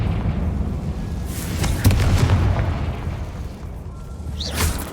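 A Confringo explosion spell in Hogwarts Legacy bursts with a sharp crack and rumbling boom near the middle, over steady low game ambience, with a softer whooshing pop toward the end.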